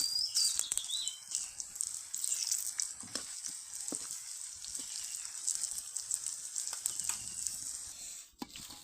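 Potato pakoras deep-fry in oil over medium heat, giving a steady bright sizzle with scattered pops and crackles and a few soft clicks as pieces are turned, close and continuous throughout.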